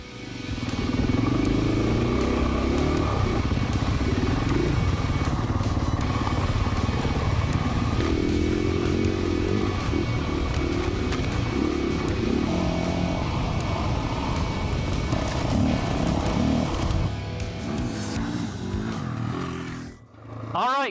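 An off-road motorcycle fitted with a headlight kit sets off on a ride: a loud, close engine rumble with clattering and rough revving that holds steady for most of the clip, then cuts out abruptly near the end.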